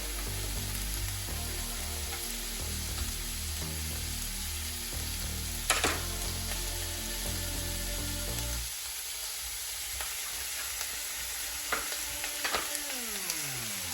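Chopped wet garlic sizzles and fries in a hot pan, a steady close crackle that drops quieter partway through, with occasional stirring scrapes and clicks over the sizzle and no talking.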